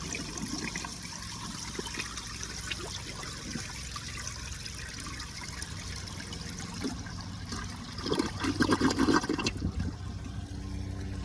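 A restored 1978 Eljer Emblem toilet flushes during a performance test. Steady rushing water runs throughout, then swells into a louder, fuller gush near the end.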